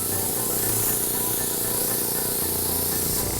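Steady, loud hiss of a hopper gun spraying texture material during a pool deck installation, a continuous airy rush with no pauses and no voices.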